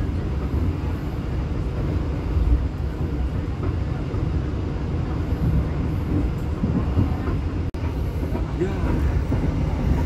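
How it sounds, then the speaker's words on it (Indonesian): A green locomotive nicknamed Melon hauls an Indonesian passenger train toward Kiaracondong station, giving a steady, close rumble of rolling wheels on rails throughout, with a brief sharp click near the end and someone talking over it. "Itu dia lokomotif ijo-ijo, si Melon."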